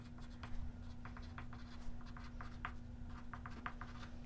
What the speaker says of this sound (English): you want to write your keyword underneath the letters of your message, repeating as necessary